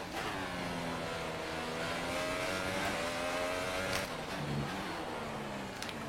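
A race car on soft tyres in a racing video game drives with a buzzing harmonic engine note that rises and falls with the revs. It is fairly quiet and steady, with no voices.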